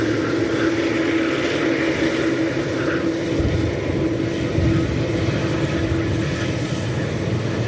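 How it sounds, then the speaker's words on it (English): TUI airliner from Budapest on final approach at Manchester Airport in windy conditions, heard as a steady, broad engine roar at a distance. The drone holds at an even level throughout with no talking. "Entering final approach is the TUI from Budapest that we want to catch as well."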